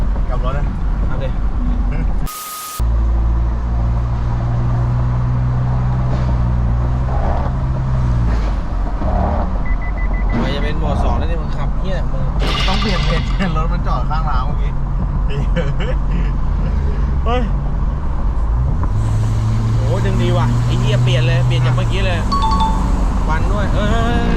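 A brand-new Isuzu MU-X on red plates drives along with a steady engine and road hum, while people inside keep talking throughout.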